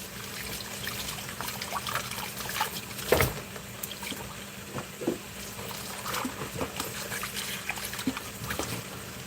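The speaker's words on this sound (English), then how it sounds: "So I can hear the chicken and I don't want to burn my garlic too much" Chicken and garlic sizzling in a pan for tinola, a steady crackling bubble with scattered pops and spits, close and moderately quiet, with no talking.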